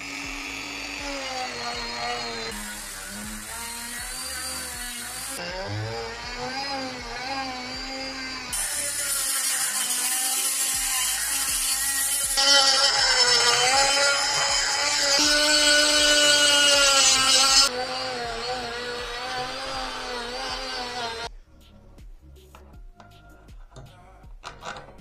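A power tool grinds and scrapes the ports of a Peugeot 306 turbo cylinder head to align the ducts. A high, whining drill-like buzz shifts in pitch and intensity over a long stretch, then drops off near the end.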